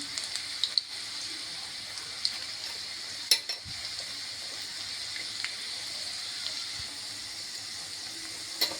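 Garlic hitting hot oil in a home kitchen pan while cooking moong dal with ridge gourd, a steady soft frying hiss running throughout with a few faint stirring clicks and no talking.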